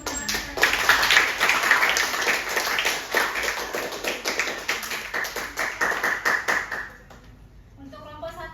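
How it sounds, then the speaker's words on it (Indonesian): Classmates in a university biology lesson-study session clap for a presenting group, a burst of many hands with distinct rapid claps that swells, holds, then fades out near the end. "boleh berikan tepuk tangan"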